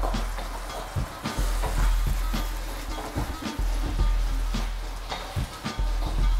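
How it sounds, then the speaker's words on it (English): Chettinad shrimp tomato sauce base sizzles in a pan while a spatula stirs and breaks up the tomato pieces, a steady fry hiss marked by repeated scraping strokes, close and moderate in level. "you can use the spatula to kind of break down those tomato pieces a little more"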